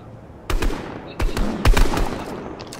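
Bursts of rapid video game gunfire, three short automatic volleys of sharp cracks, loud and close.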